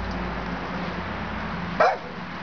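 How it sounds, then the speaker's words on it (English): A small dog lets out a single sharp bark near the end, close and fairly loud over a steady background hum. "Miniature monster dog."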